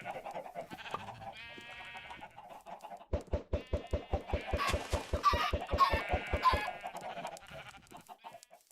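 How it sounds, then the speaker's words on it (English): Chickens in the Minecraft video game cluck among farm animal sounds, with a rapid regular run of clucking bursts in the middle and a steady layer of game noise throughout. "Whole bunch of new baby chickens."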